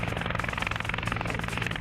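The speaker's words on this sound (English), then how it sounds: "the chopper's en route, and he'll be here shortly" A medevac helicopter flies overhead, its rotor chop steady and continuous with a strong engine drone, fairly close and loud throughout without talk.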